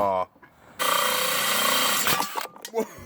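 A short burst of power drill whirring into material after a brief voice, followed by scraping and clunks as it stops.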